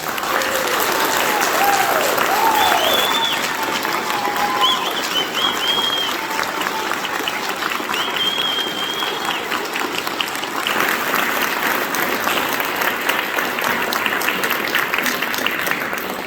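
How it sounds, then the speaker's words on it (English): Sustained applause from a large standing audience at an Eagle Scout Court of Honor ceremony, steady clapping throughout with a few brief whistles and cheers rising above it. "Will the audience please rise and give Eagle Scout Jordan Dale Dix a round of applause?"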